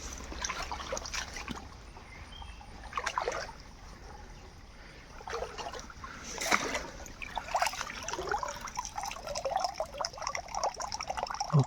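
Water trickles and splashes from a pipe into a drought-shallowed river, a steady faint gurgle with irregular louder splashes and dribbles throughout.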